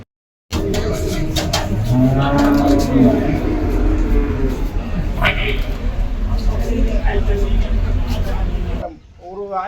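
Cows low in a cattle shed amid constant crowd chatter and background noise, with a few drawn-out moos rising above the voices.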